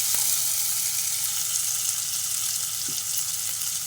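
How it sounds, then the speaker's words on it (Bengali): Spice mixture of cumin and coriander frying in oil in a pan for a potato curry, a steady, close hiss of sizzling that holds level throughout, with a faint clink near the start. "পুরো মশলাটা ভাজা ভাজা হয়ে গেছে।"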